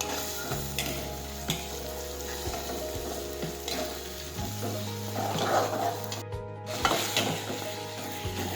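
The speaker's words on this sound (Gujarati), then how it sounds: "ત્યાં સુધી સડી ન જાય ત્યાં સુધી આ રીતે આપણે સાતળશું." Urad beans curry (adad nu shak) sautés in a pan with a continuous sizzle, broken by scraping stirs and light utensil knocks against the pan, with no talking.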